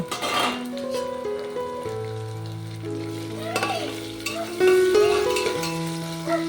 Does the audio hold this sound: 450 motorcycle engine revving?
no